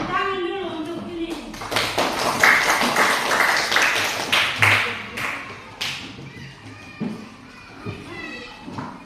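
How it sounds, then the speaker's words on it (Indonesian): Classroom applause for the last group of students, a burst of scattered clapping from children lasting a few seconds, with voices talking over and around it. "Tepuk tangan dulu untuk ini."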